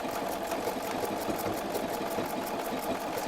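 A sewing machine runs continuously, stitching a decorative embroidery pattern around a quilt binding, with a fast, even mechanical whir and regular rapid needle ticks.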